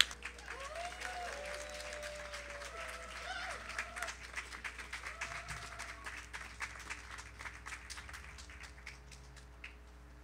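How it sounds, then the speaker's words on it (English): An audience at a 1960s teen idols tribute on American Bandstand gives a round of applause, dense clapping that holds steady and then thins toward the end, with some murmuring and a few voices underneath. "Let's have just one more round of applause"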